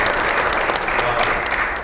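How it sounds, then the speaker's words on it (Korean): Sustained, dense applause from an audience at a Korean political party general meeting, continuous and close throughout. "다시 한번 뜨거운 박수 부탁드리겠습니다"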